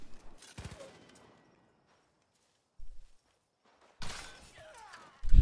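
Gunfire in Far Cry New Dawn comes as a few sharp, separate shots spread over quiet stretches, each loud and close with a short ringing tail, and no one speaking.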